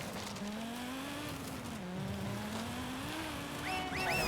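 A car drives past in the open-world racing game Forza Horizon 5, its engine tone rising and falling steadily at moderate distance, with brief high tire chirps near the end.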